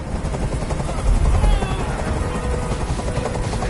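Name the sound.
helicopter hovering overhead, from the video game Detroit: Become Human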